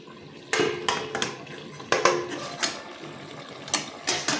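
A lid settles onto a cooking pot of doi bhendi, okra in yogurt with green chillies, giving several sharp metallic clanks and clinks spread irregularly over a few seconds, close and fairly crisp with no talking.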